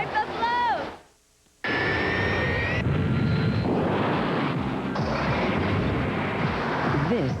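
Loud rumbling jet and truck engine noise from UPS aircraft and delivery trucks, with a sharp whine rising after a brief near-silent gap, then heavy continuous roar and clatter throughout.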